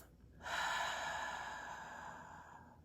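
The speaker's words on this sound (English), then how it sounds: "in through the nose, out through the mouth" A single slow, deep breath, drawn in through the nose and let out through the mouth, heard close and alone as one long, steady airy rush that starts after a brief pause and slowly fades.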